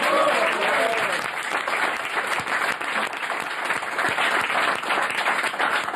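A crowd claps steadily and enthusiastically, a dense wash of applause that holds for several seconds without letting up.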